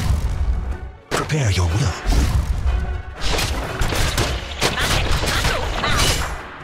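Heavy booming gunfire and blasts from the video game Watcher of Realms hit in repeated bursts over a rumbling battle background, while a character voice speaks briefly.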